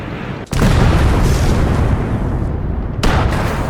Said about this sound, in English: you're about to see the big boom, the 38 centimeter Rakuten spring grenade